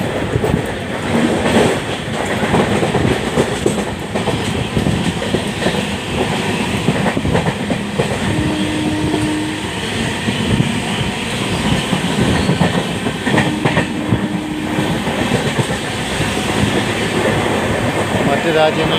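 A high-speed train passes close by on the line near Kollam. Its loud, continuous rumble and clatter of wheels over the rails lasts the whole stretch, with rhythmic clicks and brief metallic tones.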